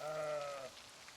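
A sheep bleats once in Project Zomboid, a single drawn-out tonal bleat of about half a second that stops abruptly and leaves quiet rain-like background hiss.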